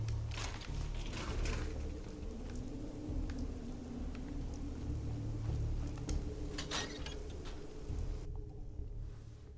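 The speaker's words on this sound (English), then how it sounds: "Still hear the rain sounds." Steady rain falling in the video game Fallout 4, a continuous broadband hiss with low rumbling underneath, fairly faint and constant, dropping away abruptly near the end.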